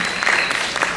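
Audience at a live music show applauding a performer, a brief burst of brisk, dense clapping with a little crowd noise mixed in.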